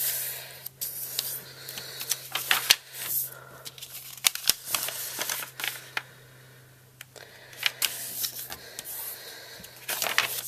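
Double-sided origami paper is folded and creased in half both ways, giving repeated crisp crinkles, rustles and sharp taps of varying loudness over a faint steady hum.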